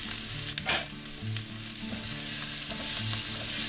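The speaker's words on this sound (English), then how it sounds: "the celery and carrots are starting to get some color to them. I'm going to add the onions now" Onions dropped into a pan of browning celery and carrots raise a continuous close sizzle, with a couple of brief knocks and low scraping stirs, and no voices.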